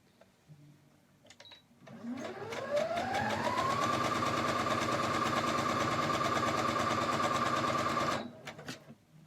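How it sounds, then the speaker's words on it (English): Sewing machine stitching doll clothes seams, its motor ramping up over a couple of seconds into a fast, steady whirring rattle for several seconds before stopping, with faint handling clicks before and after. "we're just going to sew the front seams on all 4 of these together."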